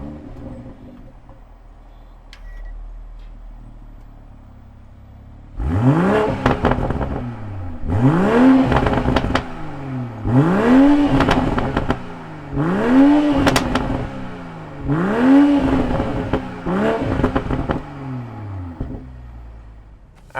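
A 2020 BMW M340i's engine fires up after a quiet idle, then revs hard in six or seven rising and falling blips, each roaring up and settling back, loud and close with no talk.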